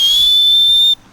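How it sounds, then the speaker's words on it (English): A small emergency whistle clipped to a hiking pack gives one loud, piercing, steady blast close to the microphone, held for about a second and then cut off sharply, with no talking. "So I have actually got this little whistle here on my pack"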